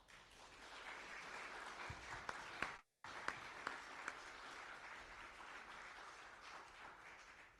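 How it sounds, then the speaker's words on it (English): A church congregation gives steady, sustained applause welcoming new members, with a short sharp cut in the middle before the clapping resumes and carries on evenly, fairly distant and soft. "Let's give them a round of applause."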